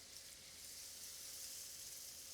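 Shrimp sizzling in a hot pan for Creole shrimp, a steady faint hiss with no break, close-up and quiet, with no voices over it.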